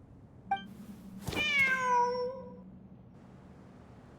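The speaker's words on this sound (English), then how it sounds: "Wait, there it is! The cat!" A cat meows once, clear and drawn out, in the video game Genshin Impact, over a low background hum, with a faint short chirp just before it.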